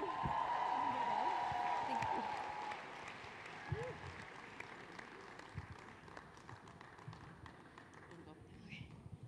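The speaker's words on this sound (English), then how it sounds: "A big round of applause, ladies and gentlemen, for Navani." Audience applause at a red carpet evening of an international family planning conference, dense clapping loud at first then thinning and fading under a voice.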